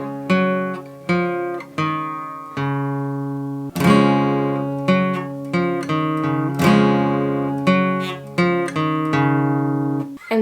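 Acoustic guitar playing a riff, mixing bright strums with single plucked notes in a steady, close, solo pattern with no talking.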